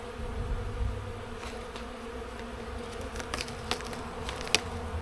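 Bees buzz around an open hive during a calm inspection, forming a soft, continuous drone with a few brief ticks and clicks nearby, faint overall and without talking.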